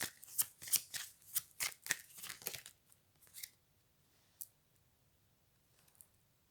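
Tarot cards are riffled and shuffled in a quick burst of crisp, close flutters and snaps, then a few soft isolated clicks follow in a quiet room.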